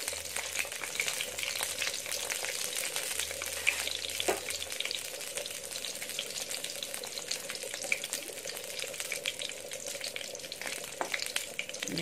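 Eggplant skin roasts in an oiled pan with a steady close sizzle and crackle throughout, a few brief clinks of a utensil against the pan rising above the frying.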